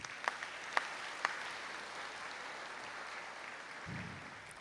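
Faint, distant applause from a seated audience at a university conferring ceremony for graduates in Donegal, a steady soft patter with a few sharper individual claps near the start.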